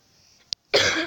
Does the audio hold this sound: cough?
yes